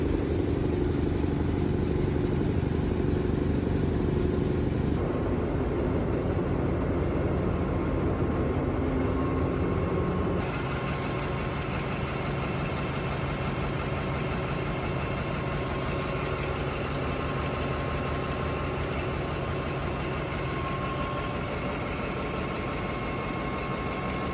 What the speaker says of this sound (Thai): เดี๋ยวเรามาดูตอนที่เครื่องยนต์ทำงานดูนะครับ